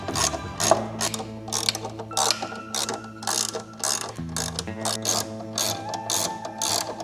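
A hand ratchet tightens fairing bolts on a 2025 Harley-Davidson Road Glide, loud close clicking in repeated quick bursts of pawl ratcheting with brief pauses between strokes.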